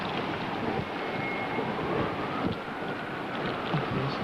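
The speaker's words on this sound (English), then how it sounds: "There's been sporadic damage from 100-mile-an-hour winds." Hurricane Georges winds near 100 mph batter Pascagoula, Mississippi, in a steady, dense roar of gusting air buffeting the microphone, loud and unbroken with slight surges throughout and no voices.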